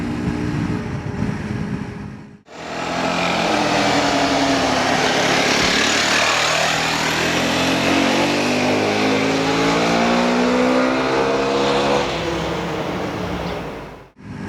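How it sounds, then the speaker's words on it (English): A loud 2022 FB Mondial SMX125 motard motorcycle engine idles and revs steadily up close, its exhaust droning continuously before cutting off abruptly near the end. "The exhaust doesn't sound too bad."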